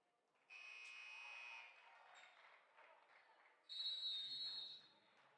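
A loud, sustained referee's whistle cuts through a busy indoor basketball crowd, then a second long blast follows a few seconds later amid the arena noise.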